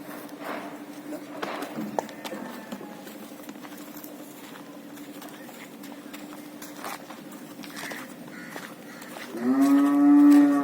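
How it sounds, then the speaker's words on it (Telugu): Calves moo several times, a long loud close moo near the end, over faint background chatter and rustling. "అదిగో దూడలే"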